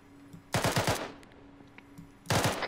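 Automatic gunfire in the military video game Arma 3: two loud, rapid bursts of several rounds each, separated by a short quieter gap with faint distant shots.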